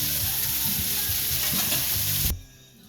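Diced pancetta fries in a hot pan with a loud, dense sizzle and stirring scrapes up close, then the sound cuts off abruptly near the end.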